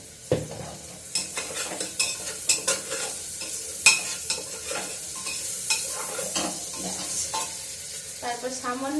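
Onions frying with a pinch of salt in a pan, with steady sizzling and frequent scraping stir strokes of a spoon, close and fairly loud, with no talking.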